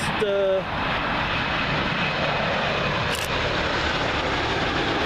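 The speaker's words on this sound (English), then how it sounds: "another Dreamliner, 787 Dreamliner for British Airways" British Airways Boeing 787 Dreamliner arriving at Heathrow on runway 27L from Mumbai, a loud, close, steady jet engine rumble that holds for several seconds with no voices.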